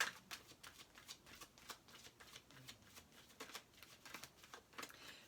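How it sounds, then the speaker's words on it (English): Tarot cards are shuffled quietly, with soft rapid riffling bursts repeating in an uneven rhythm, close but faint, with no speech over them. "while I'm shuffling these"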